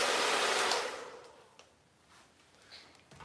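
A handheld hair blow dryer drying wavy hair roars loudly and steadily at first, then drops in level as it is moved or angled away, leaving a softer airy hiss.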